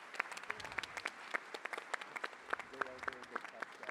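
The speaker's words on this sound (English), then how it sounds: "Now give a round of applause for all our interpreters" Audience applause for conference interpreters at an education event, a scattered, fairly quiet round of clapping from a modest crowd with individual claps distinct, somewhat distant.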